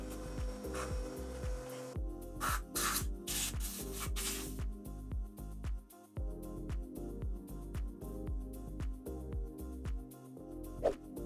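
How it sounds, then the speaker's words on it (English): Hand rubbing to clean the outer ring of a brake caliper piston on a BMW X3 F25, a soft rhythmic scrubbing that continues steadily over a low background drone, close and with no talk. "I will clean a bit the piston outer ring."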